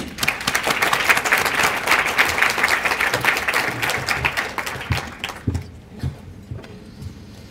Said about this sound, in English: So big round of applause for Bill and Laura.